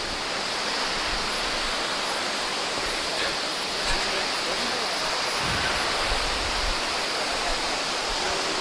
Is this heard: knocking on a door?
no